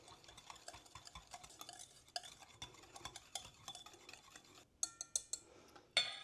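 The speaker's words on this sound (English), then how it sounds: "I'm going to take my whisk, and we're going to mix this all up." A whisk stirs coleslaw dressing made with bottled lemon juice in a bowl, giving a run of quick, light clicking taps against the side, close and fairly quiet, ending in a few sharper knocks.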